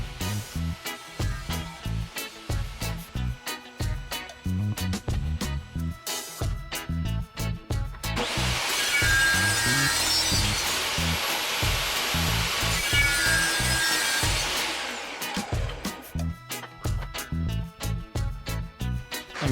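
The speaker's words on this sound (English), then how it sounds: "Here I'm just ripping it down and getting it down to size." A power saw rips wood down to size for a wooden Pikler triangle climber: a sustained, loud cutting whine through the middle, framed by intermittent knocks and handling noises before and after.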